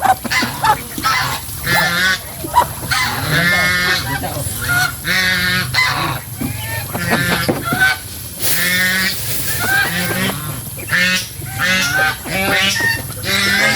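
A flock of farmyard geese honks loudly and close by, their overlapping calls repeating almost without pause throughout.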